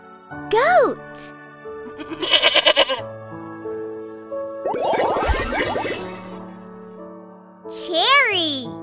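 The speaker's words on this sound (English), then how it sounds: "Goat." A goat bleats with a wavering call among children's-song music and a voice naming things, in a kids' learning piece on fruits and animals; a short musical jingle and sung tones surround it, the bleat loud and near.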